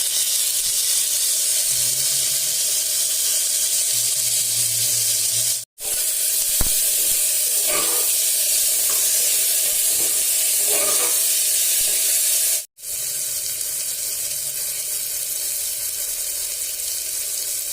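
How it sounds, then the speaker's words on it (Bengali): Chopped tomatoes sizzling in a pan with fried onions, a loud continuous hiss and spatter of frying with brief clatters of stirring, broken by two abrupt cuts. "এবার আমি কুচিয়ে রাখা টমেটোগুলো এখানে দিয়ে দিচ্ছি।"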